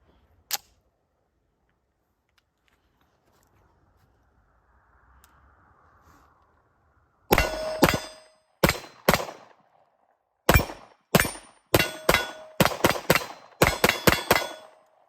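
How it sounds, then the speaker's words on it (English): A CZ Shadow 2 Compact pistol fitted with an RMR sight and a TLR-7A weapon light is fired outdoors, about a dozen sharp, loud shots in quick pairs and strings after a long quiet stretch. "This is a pretty soft shooting gun."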